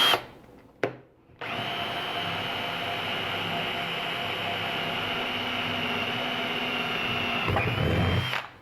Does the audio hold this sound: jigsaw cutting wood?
yes